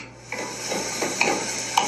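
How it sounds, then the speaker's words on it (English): Bacon strips sizzling as a cold pan heats up, a steady soft crackling hiss with a few small pops and light scraping, fairly quiet and close. "as it heats up, the bacon will start to sizzle"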